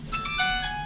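A cellphone ringtone plays a bright, repeating electronic melody of high tones, close and fairly loud, filling the whole short moment with no talk over it.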